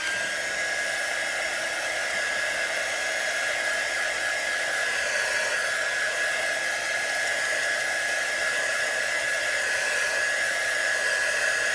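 A hair dryer blows steadily at close range for several seconds, drying a freshly made fireworks-pattern fabric wall hanging, with an even whirring hum and airy rush and no talking.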